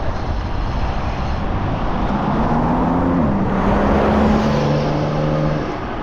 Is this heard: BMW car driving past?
yes